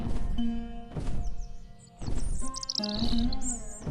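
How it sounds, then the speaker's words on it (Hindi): A large myna bird flies in calling, with chirps and tweets over a busy background of music, moderately loud and layered. "तभी एक मैना पक्षी, जो आम मैना से आकार में बड़ी और चाल में तेज थी, उड़ती हुई आई"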